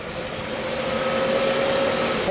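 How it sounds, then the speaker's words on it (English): An all-original 1960 Pontiac Bonneville convertible idles steadily nearby, a continuous even drone with a faint tonal hum and no break. "It's got a little cam sound to it."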